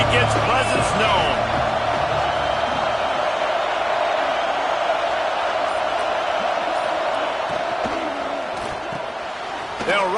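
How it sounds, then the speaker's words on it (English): Roar of a college football stadium crowd, a loud steady wall of noise holding throughout, with a commentator's voice audible over it. "This crowd ready to make its presence known."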